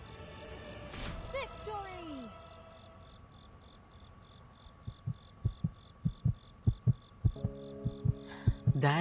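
A heartbeat sound effect thumps in a short film, starting faint and building into loud, quickening beats against a quiet ambient hum and high chirps, after a brief sound sweep.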